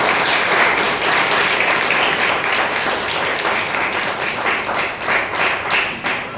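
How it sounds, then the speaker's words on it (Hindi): Loud, sustained applause from a church congregation during a Hindi sermon, dense clapping of many hands filling the room for several seconds with no talk over it. "बिना जोरदार तालियां प्रभु यीशु मसीह।"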